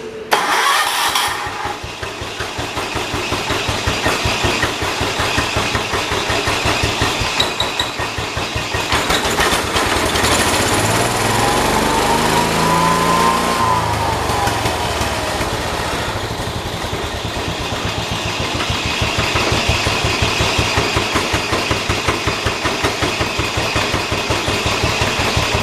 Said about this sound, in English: Still throttles up a bit high, but it's idling real good.